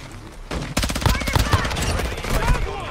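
Rapid bursts of automatic gunfire in Warzone Mobile, close and loud, crackle in dense repeated shots for about two and a half seconds after a brief quieter lead-in, with talking mixed in.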